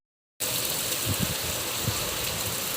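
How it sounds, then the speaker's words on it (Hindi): Heavy rain pours down, starting abruptly after a short silence and continuing as a loud, even, close-up roar with occasional heavier splashes. "बारिश बहुत तेज़ आ रही है, तो दिखाते हैं बारिश"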